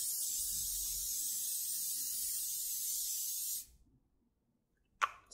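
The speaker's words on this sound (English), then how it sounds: "I'm gonna shake my fixative and we can spray everything." Aerosol fixative is sprayed over a soft pastel drawing in one long, close, steady hiss that cuts off abruptly, followed by silence and a single brief burst near the end.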